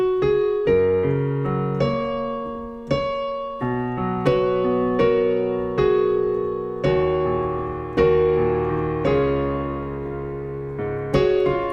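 A piano plays a slow chord progression, each chord struck firmly and left to ring and decay before the next, close and clear and alone with no talking.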